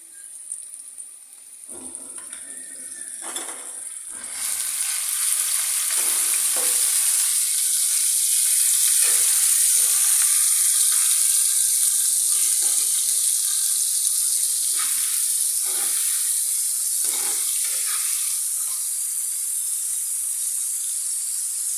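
Onion paste hits a hot pan and fries with a loud, steady, hissing sizzle that swells after a quieter start and keeps crackling close up, with occasional stirring scrapes.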